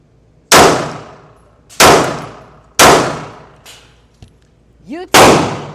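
Five sharp, loud gunshots from an S&W Bodyguard 2.0 Comp .380 ACP pistol crack out at a steady pace, each followed by a brief ringing decay, with a faint metallic clink between the last two.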